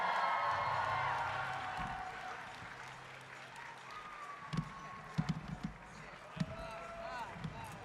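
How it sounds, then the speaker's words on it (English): An audience at a cosplay championship applauds a regional champion on stage, a dense wash of clapping and crowd noise in the first seconds that thins out, followed by scattered thumps and quieter stage sounds. "Big round of applause for him"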